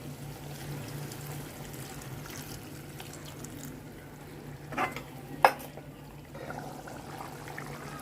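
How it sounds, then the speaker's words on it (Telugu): Water poured into a simmering prawn curry in a pot, a soft continuous wash of liquid under a low steady hum, with a couple of brief clinks and splashes partway through. "వాటర్ వేస్తున్నాను ఇప్పుడు సరిపడా వాటర్ ఉడకటానికి"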